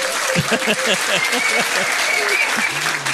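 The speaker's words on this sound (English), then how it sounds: "give them a round of applause for trying" Clapping fills a pub trivia quiz room, steady and moderately loud, with talking and exclamations from the crowd running through it.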